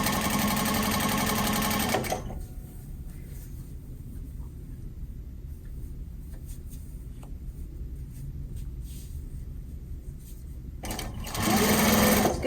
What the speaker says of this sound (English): Anywhere between 4 and 5 is a good stitch length for the walking foot machine.